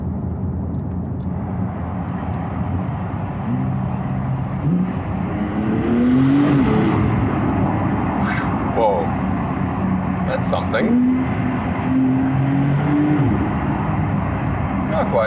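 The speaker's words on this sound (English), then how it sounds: "We all know the 911 in general is not known for the best sound overall." Engine note of a Porsche 911 Turbo S (992) heard from inside the cabin with a window lowered, a low rumbling drone that swells as it revs and rises in pitch, with occupants talking over it.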